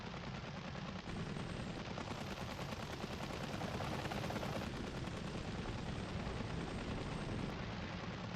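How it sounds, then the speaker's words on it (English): Helicopter combat in the Apache: Air Assault game, dense continuous gunfire and rotor roar at a steady loud level with no gaps, no speech heard. "Hey, they're shooting at us!"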